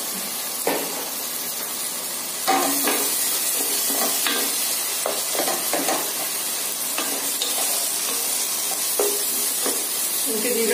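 Tomatoes sautéing in a pan for chole masala give a steady close sizzle and hiss, broken by repeated scraping stirs of a spoon against the pan.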